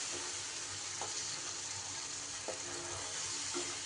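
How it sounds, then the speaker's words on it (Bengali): A steady low sizzle of masala paste loosened with water frying in a pan for an egg dish, with a few faint spoon taps at intervals and no voices. "দিয়ে এইবার মশলা খুব ভালো করে কষিয়ে নিতে হবে।"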